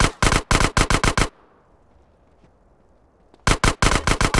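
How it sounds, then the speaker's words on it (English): Gunfire from the video game GTA San Andreas comes in loud, rapid bursts of shots, then a quiet gap of about two seconds before another fast volley hits just as hard. "Hell, sewers, that was a sniper bullet!"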